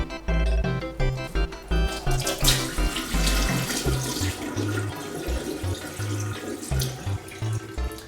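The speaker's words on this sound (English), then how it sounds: "your water's going to flow more smoothly through the drain." Water from a kitchen sink tap pours steadily and smoothly down a vented drain without gurgling, loud and close, with shifting splashes and rushing flow throughout.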